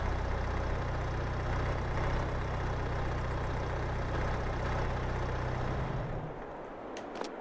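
A 205-horsepower tractor engine idles in Farming Simulator 22, a steady low droning rumble that holds for several seconds, then drops away and fades near the end.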